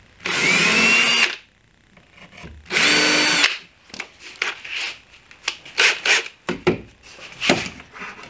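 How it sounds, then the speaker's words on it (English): A power drill bores screw holes for cabinet hinges in pine or plywood, two sustained high whines up close, then a series of short bursts and clunks as the work is shifted. "and I'll drill for the screws."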